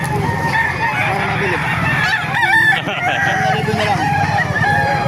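Several roosters crow loudly and close by among clucking SBR chickens at a Calumpit market, with crowd chatter and people talking throughout.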